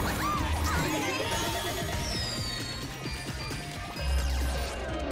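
Glass smashes and shatters in Ms. 'Splosion Man amid a busy, loud game soundscape of crashes, whooshes and music, with sharp high debris streaks but no talk.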